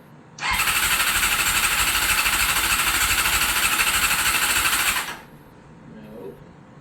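A cold barn-find Honda CBR600 motorcycle catches on full choke and runs with a loud, rough, close engine roar for several seconds before cutting out abruptly.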